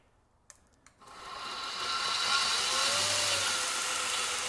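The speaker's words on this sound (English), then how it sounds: "My knife grinder here is a three-phase motor, and I have a variable speed control here." After a couple of light clicks, a knife grinder's three-phase motor switches on and spins up to a steady, loud whirring drone with rising pitch, running on alone.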